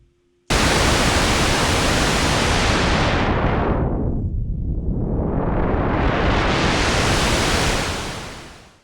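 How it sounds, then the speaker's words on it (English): Loud, steady pink noise from a Softube Model 72 synthesizer rushes continuously while its filter sweeps it down to a muffled low rumble and then opens back up to full hiss. "Let's listen to it with pink noise."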